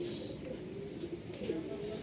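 A female ringed Malwai pigeon coos softly in a low, steady murmur that runs continuously throughout, close by, with faint background noise and no talk.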